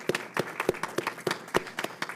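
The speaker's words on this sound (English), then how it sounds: "let's give them a round of applause" At a board of education meeting, a small audience gives a round of applause, heard as a handful of sharp, fairly quiet claps in an uneven rhythm over a couple of seconds.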